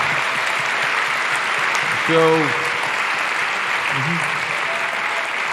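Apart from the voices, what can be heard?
audience applause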